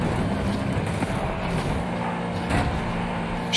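A car in Forza Horizon 5 tearing straight across an open field at around 250: a steady, loud engine roar with rough rumbling, continuous and close throughout.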